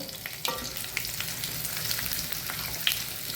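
Cumin seeds, urad dal and chana dal crackle and sizzle in hot oil for a South Indian tempering, a steady close hiss broken by sharp pops and a few stirring clicks, with no voices.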